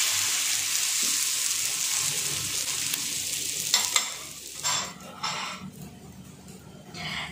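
A four-egg Indian-style omelette (telur dadar) with bread sizzles steadily in a hot pan as it is flattened and flipped, a continuous close hiss broken by a few scraping, clattering bursts toward the end.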